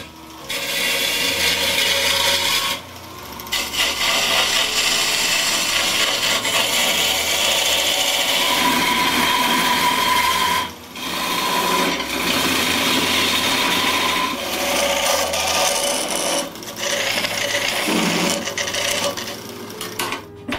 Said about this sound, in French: j'enlève du bois, principalement avec la gouge à dégrossir et avec une gouge à grain d'orge